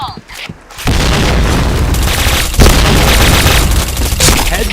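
A grenade explosion in a shooter video game lands as a loud, sustained boom with rolling rumble, a second blast hitting moments later amid dense in-game gunfire and radio-style callouts.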